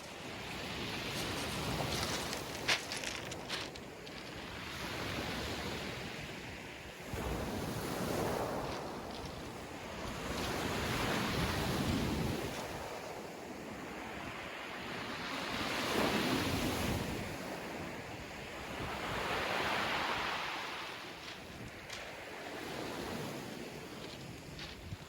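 Sea surf on a South Devon shore during lure fishing, with waves breaking and washing in slow surges every few seconds under steady wind noise, fairly close and continuous with no voices.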